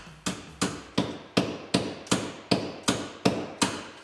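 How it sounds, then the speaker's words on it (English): A hammer taps a push-in sensor into place on a rollback tow truck, about eleven sharp, evenly spaced metallic blows in a steady rhythm, close and alone with no talking. "Tap it in with a hammer?"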